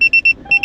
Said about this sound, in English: As you can see, the alarms are now going off.